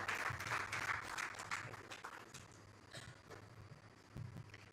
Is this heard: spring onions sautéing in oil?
no